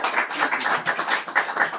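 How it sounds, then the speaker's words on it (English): Steady audience clapping at a book signing at Book Soup for Jimmy Steinfeldt, a dense patter of many hands continuing throughout the short stretch. "So let's give a nice round of applause for Jimmy Steinfeldt"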